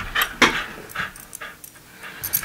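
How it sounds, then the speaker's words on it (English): A dog pants in quick, uneven breaths close by, with soft snuffles and small whimpering bursts spread across a short quiet stretch. "Crazy dog."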